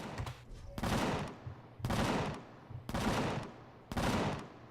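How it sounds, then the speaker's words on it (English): Gunfire in the space survival game Empyrion: four evenly spaced bursts of automatic fire, each about half a second long, moderately distant and fairly quiet, with near silence between them. "I'm not sure what it's shooting at now, but"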